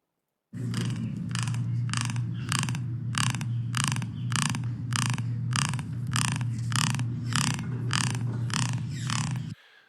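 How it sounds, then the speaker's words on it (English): A bird at the St. Louis Zoo gives a rapid, steady series of harsh, rhythmic croaking calls, about two per second, over a constant low background hum. "That is the sound of a bird"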